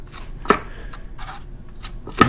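Material being cut by hand for a homemade backpacking cook set cozy, with two sharp, close cutting snaps about two seconds apart over faint rustling.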